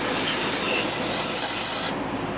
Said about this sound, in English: I'm just going to flush everything down with brake cleaner from up here and just spray everything down.